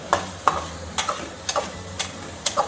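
Curry leaves sizzle in hot oil for a tamarind fish curry while a spoon stirs with steady, rhythmic scrapes about twice a second, close and alone without voices.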